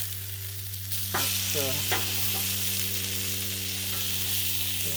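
Thick pork chops sizzle steadily on a Blackstone griddle, a loud continuous fry with a constant hum underneath and a brief word spoken near the start.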